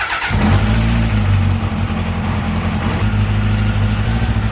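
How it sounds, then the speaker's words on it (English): A Kawasaki Ninja 600 motorcycle with a carburetor fault starts up and runs loud and close, a continuous uneven rumbling idle with no talk over it. "You can already tell it's running kind of rough,"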